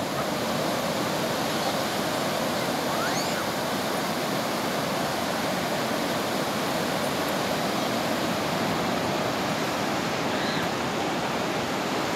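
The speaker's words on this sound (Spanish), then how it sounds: "Ahí viene la oleada." Continuous roar of ocean surf washing in on Miramar beach, a broad steady rushing noise with faint distant bird calls now and then.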